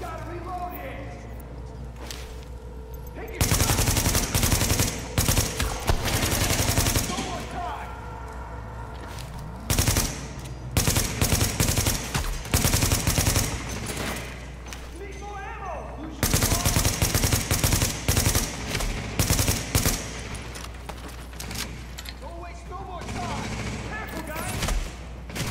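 Gunfire in The Division, with dense bursts of automatic shots and rapid fusillades in two long loud stretches separated by quieter gaps; a voice talks over part of it.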